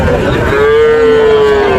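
Loud, close cow moo at a cattle market in Dinajpur, where young heifer calves are being sold; one long drawn-out call with a steady tone fills the clip against crowd background.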